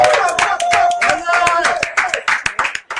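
Audience at a radio broadcast of theatre readings applauds a theatre company, sharp close hand claps mixed with cheering voices and chatter, loud and dense for a few seconds.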